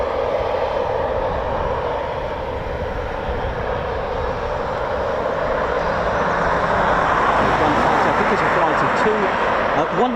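Eurofighter Typhoon FGR4 jet taxiing back on an RAF station airfield, a steady roaring whine that swells slightly toward the end, with a voice talking over it.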